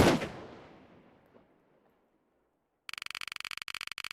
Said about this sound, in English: I take the risk and shoot him